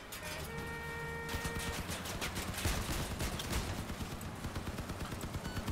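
Vehicle-mounted turrets in Crossout fire in rapid, steady automatic bursts, a fast string of quiet, somewhat distant shots that keeps going for several seconds after a brief tonal hum.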